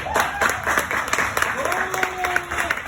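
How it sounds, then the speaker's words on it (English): Scattered audience applause at a comedy show, a handful of claps rising and fading over a few seconds, with a voice and tonal sounds running through it. "Round of applause if you hate wearing masks."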